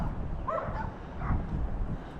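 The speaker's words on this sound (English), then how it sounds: "Neighbors have a dog or two." A neighbor's dog barks a few times at a distance near an old walled cemetery downtown, short yips rising faintly over steady outdoor background noise.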